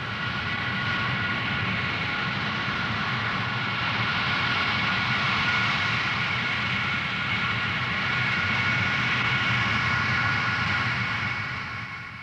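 The Concorde prototype's jet engines run steadily during a taxi run, giving a sustained, loud roar with a broad whine layered through it that holds level for the whole stretch, with no speech.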